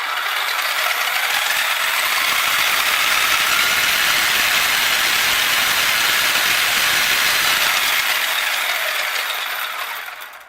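Electric motor of a Redcat Blackout XTE RC truck held at full throttle forward, a loud, steady high-pitched whine with gear chatter running continuously for about ten seconds before cutting off.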